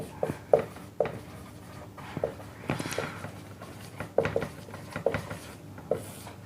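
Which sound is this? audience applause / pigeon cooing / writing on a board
writing on a board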